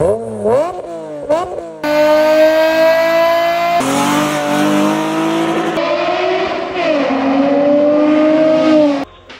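A loud car engine revs hard, pitch climbing and dropping through several sharp bursts, then holding a high sustained whine before cutting off.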